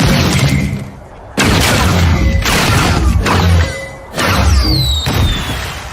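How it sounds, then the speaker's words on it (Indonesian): Loud booming bursts of cartoon fireworks go off one after another, with crackling and a high whistling streak rising between blasts, from My Little Pony. "Lalu kenapa mereka memulai pertunjukan kembang api?"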